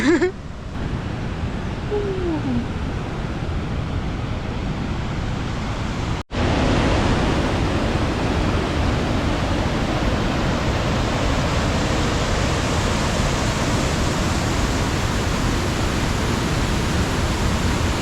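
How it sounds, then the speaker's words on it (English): A waterfall in Dharamkot, Himachal Pradesh, roars close by in a constant, dense rush of falling water that continues without a break. "Oh, look at the waterfall."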